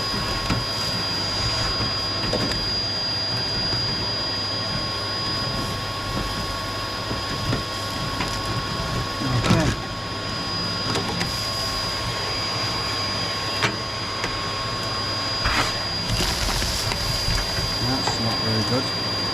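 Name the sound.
vacuum cleaner sweeping multifuel stove flue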